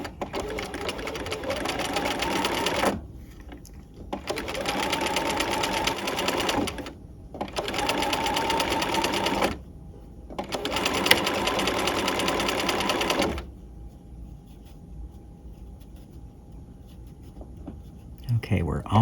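Sewing machine stitching a narrow roll hem with a short stitch length: four close, steady runs of rapid mechanical whirring with brief pauses between them, then a quieter stretch with a faint hum.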